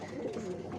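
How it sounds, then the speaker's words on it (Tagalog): White doves cooing softly, a low murmuring coo, faint and close, lasting under a second. "Lumitaw na yung pure white ng ating mga white doves."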